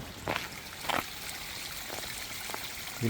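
Water trickles and flows steadily along a concreted channel beside a Kerala house, a soft continuous wash with a few louder splashy bursts, close by and without talk.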